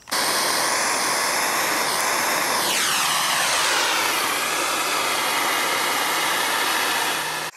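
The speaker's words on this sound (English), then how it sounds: "So I'm gonna try it with just the blowtorch" Loud, roaring hiss of a blowtorch flame aimed at magnesium wire and aluminum foil, continuous and close, with a sweeping shift in tone partway through.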